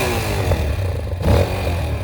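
A motorcycle engine idles steadily and fairly loud nearby, with a brief revving surge and some clatter partway through; no speech.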